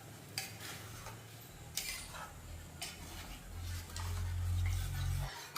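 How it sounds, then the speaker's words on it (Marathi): A pot of ground dal being stirred into fried masala gives soft, scraping stirs with occasional light utensil clicks against the metal, over a low steady kitchen hum. "याच्यामध्ये ही घोटून घेतलेली डाळ टाकून घ्यायची. एकदा हलवून घ्यायचं."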